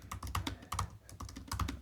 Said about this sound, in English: I'm typing right now solar plants